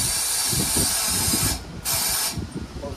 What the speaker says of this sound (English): I'm gonna blow some compressed air down this hole